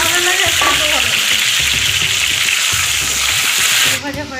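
Long-cut potato strips drop into hot oil in a pan and sizzle loudly and steadily up close, with a voice speaking briefly over the frying before it eases off at the end.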